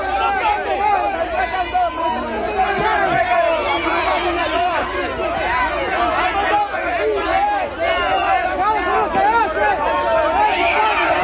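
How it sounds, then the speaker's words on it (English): Angry crowd shouting and yelling during an NYPD arrest of migrants in New York City, a dense, loud, continuous mass of overlapping agitated voices with surges of cries throughout. "The people, the crowd is getting really upset."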